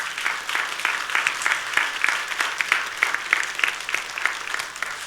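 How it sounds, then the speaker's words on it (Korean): A church congregation applauds its choir after a service performance, a steady, dense round of clapping from many hands that holds evenly throughout. "여러분 박수로 한번 격려해 주시기 바랍니다"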